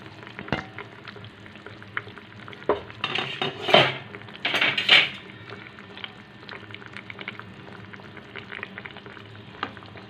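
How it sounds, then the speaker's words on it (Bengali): Hilsa fish curry with kalonji, green chillies and potatoes bubbles in a pan, with steady frying crackle under sharp clinks and clatter of a lid and utensils, loudest in two bursts midway. "ঝোল ফুটছে, এবার দেখে নিই কতটা কি হলো।"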